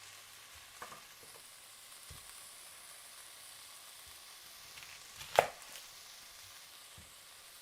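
Bacon fries quietly in a pan with a faint, even sizzle. A few soft knocks and one sharper clack from the cookware break in.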